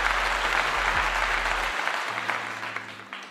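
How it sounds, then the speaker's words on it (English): A canned applause sound effect: a crowd clapping in a thick, steady roar that gradually tapers off, with a faint low tone underneath. "I'm gonna give you a clap."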